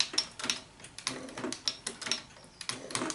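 Shop-built hand shaper taking a bigger cut with its tool bit, giving a repeated rough scraping and ticking stroke roughly every half second, moderately close with no talk.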